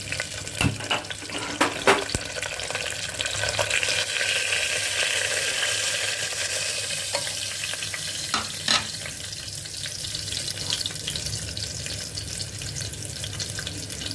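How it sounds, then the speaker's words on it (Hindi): Garlic and asafoetida (hing) fry in a pan with a loud, close crackling sizzle, broken by sharp clatters and stirring scrapes, steady throughout. "गैस ऑन करेंगे और हींग डाल देंगे"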